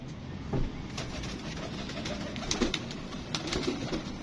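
Pigeons coo softly in short, repeated bursts, close by over a faint background hum, with no talking.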